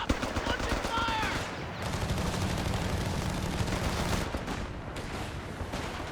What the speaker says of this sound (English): Oh, that is a noisy old machine gun